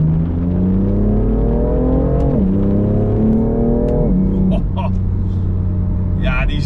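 The inline-six of a BMW M4 Competition AVUS tuned by AC Schnitzer drones loudly from inside the cabin, its pitch climbing through gears with two drops at shifts, under steady talk.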